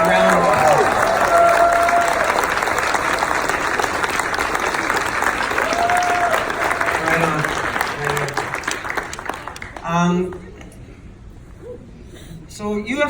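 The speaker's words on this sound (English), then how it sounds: "Give yourselves a really big round of applause." Loud applause and cheering fill a UFCW 401 union convention hall, with voices calling out over dense clapping that thins out near the end.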